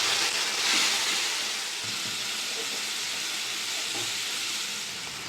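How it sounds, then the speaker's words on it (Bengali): Spice masala with Kashmiri chili powder and a little sugar being fried with a splash of water for an egg curry, a dense steady hissing sizzle with faint low stirring thuds, close and continuous. "অল্প একটু জল দিয়ে মশলা কষিয়ে নেব।"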